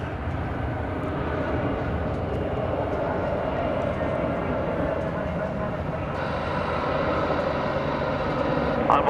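An airliner rolls past at DFW Airport at night, its engines giving a steady loud rumbling roar that holds evenly throughout.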